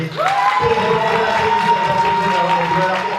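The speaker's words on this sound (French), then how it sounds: "Je vous demande de faire un tonnerre d'applaudissements pour Marie-Charlotte Tatebol-Gondé" Crowd at a pitch competition awards ceremony in Brussels applauds and cheers a finalist, a sustained wash of clapping under a tonal, music-like line and a voice near the start.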